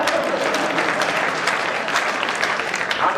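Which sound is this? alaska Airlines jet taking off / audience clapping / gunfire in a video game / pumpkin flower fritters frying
audience clapping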